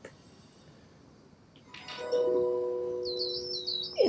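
Coal tit calling in the wildlife game Alba: A Wildlife Adventure, a few thin, high chirping notes near the end over a soft outdoor ambience with other faint tonal calls.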